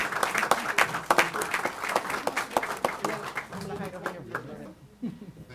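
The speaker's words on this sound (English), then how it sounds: "Can we do a round of applause for everybody?" A round of applause breaks out at a city council meeting, a room full of people clapping steadily for several seconds before the claps thin out near the end.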